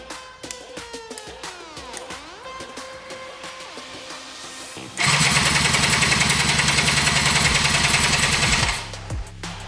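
A small petrol engine fitted into a Power Wheels Ford Ranger ride-on toy cranks briefly with a rising whir, then catches and runs loud and steady for about four seconds before cutting out.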